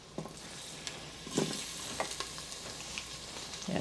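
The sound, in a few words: ginger and garlic sizzling in hot vegetable oil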